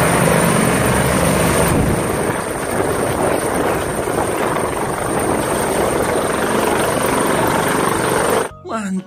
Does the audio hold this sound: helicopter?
yes